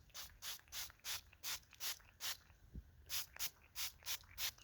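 Repeated short bursts of doe scent lure sprayed onto a natural deer scrape, about a dozen quick hissing pumps in a steady rhythm with a brief pause midway, close and fairly quiet outdoors.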